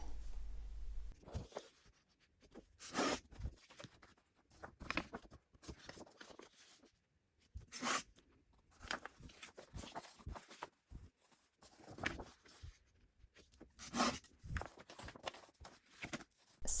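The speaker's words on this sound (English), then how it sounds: "Now all we need to do is just cut it in the middle" A printed paper planner is cut in half with close, soft crunching and scraping strokes that come in short irregular bursts separated by quiet gaps, fairly faint, with no talking.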